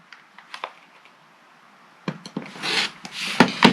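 A rotary cutter or blade slices through quilting fabric for a cocktail-glass mug rug, giving a few faint scrapes and then a louder rasping stroke with short scratchy bursts near the end.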